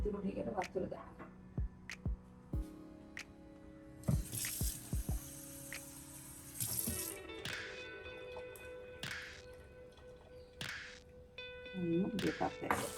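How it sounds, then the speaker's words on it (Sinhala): Water poured into a pot of butterfly blue pea flower rice, short splashing pours and drips with clinks of a vessel, interrupted by someone talking between them. "ඉතුරු ටිකට වතුර දානවා."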